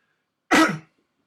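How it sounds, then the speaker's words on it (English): A single short, harsh cough bursts out close to the microphone and fades within about a third of a second, then silence. "Excuse me for my cough."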